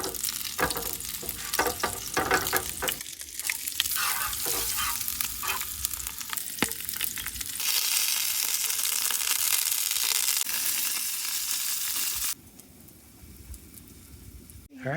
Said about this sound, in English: We've got our breakfast sausage here, so we'll get things fired up here.